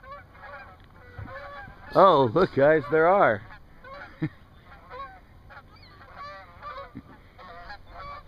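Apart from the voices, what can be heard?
Canada geese honking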